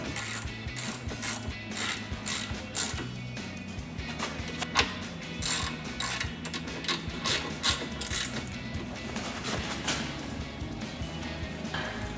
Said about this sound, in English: we will take our 18 millimeter socket that we used to remove them with